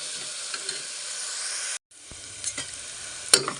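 Onion, curry leaves, green chili and ginger sautéing in a pan for potato curry, a continuous close sizzle with stirring scrapes, briefly cut off and then resuming with clinks of utensils.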